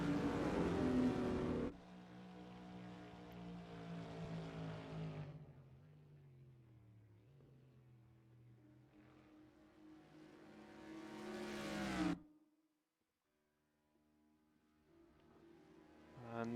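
A Panoz race car's V8 engine in a racing video game, pulling hard and loud through a long acceleration, then easing off through mid-range revs before climbing again to a high wail, a short silence, and a faint return.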